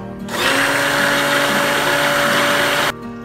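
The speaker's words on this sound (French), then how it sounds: "Je vais donner un coup de mixeur plongeant en laissant la tête bien en bas pour ne pas apporter de bulles dans mon glaçage miroir" An immersion blender whirs steadily while mixing a chocolate mirror glaze, its head held low in the bowl, a loud continuous motor hum that starts abruptly and cuts off near the end.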